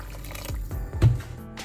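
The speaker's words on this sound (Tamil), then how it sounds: "இந்த நூடுல்ஸை அவிய விடுறதுக்கு மேலால தண்ணி விடணும்" Water is poured into a pan over prawn noodles, giving a close, brief gurgling splash with a few sloshing pulses.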